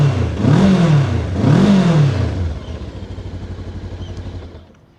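A KOVE 525X adventure motorcycle engine is revved twice in quick succession, each rise and fall loud and close, before settling back to a lumpy idle that fades out.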